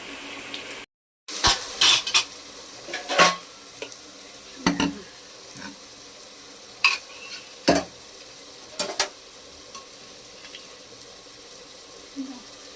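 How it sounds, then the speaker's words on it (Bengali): A spoon stirs and scrapes mutton biryani spice masala as it sautés in a pan at home, giving sharp, irregular knocks and scrapes over a low, steady sizzle. "বিরিয়ানির মাটনের মশলা কষানো হচ্ছে"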